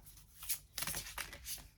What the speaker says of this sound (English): I shuffle them like this.